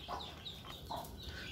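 Newly hatched chicks kept in a cage indoors give a couple of soft peeping calls with faint clucks, quiet and close, over a low background hum.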